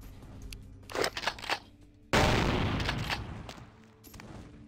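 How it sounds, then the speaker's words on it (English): Gunfire from the Vampire the Masquerade: Bloodlines video game: a quick cluster of three or four sharp shots, then a louder blast that decays over about two seconds, with a fainter shot near the end. "Maybe we gotta shoot it again."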